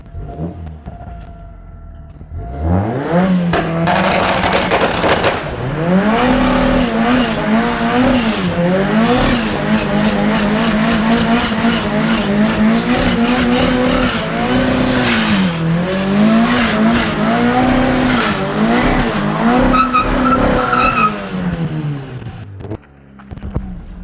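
A turbocharged 4AGE engine in a rear-wheel-drive Mazda 323 revs hard while tires squeal in long, wavering screeches as it spins donuts, loud and close, then cuts off.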